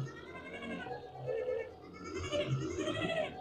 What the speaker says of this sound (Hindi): ये हमारा चरखी जनरेटर है